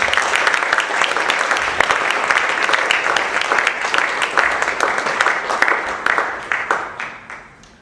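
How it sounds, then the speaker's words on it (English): An audience at an Empty Hands Tour concert at Bhartiya Vidhya Bhavan breaks into loud, sustained applause, many hands clapping densely together before the sound thins and fades toward the end. "Please give her a round of applause."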